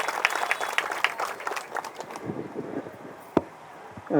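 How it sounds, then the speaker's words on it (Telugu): A crowd at an outdoor protest sit-in claps to welcome a legislative council member, giving a dense, steady patter of many hands that thins out toward the end, with one sharp knock near the close. "వారికి మనందరి తరఫున స్వాగతం చప్పట్ల రూపంలో తెలియజేస్తాం."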